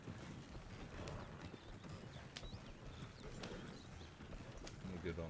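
Horses' hooves clip-clop steadily in the game Amaroq Springs as the animals roam along a road, a quiet, continuous patter of irregular footfalls with occasional faint clicks.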